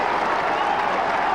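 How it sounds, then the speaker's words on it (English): A stadium crowd at a 2001 AFL match between West Coast and Melbourne roars and claps in a dense, continuous wash of noise. "crowd getting involved"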